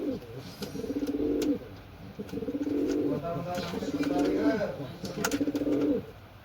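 Pigeons coo close by in repeated throaty bursts, a steady rhythmic series with brief pauses between calls.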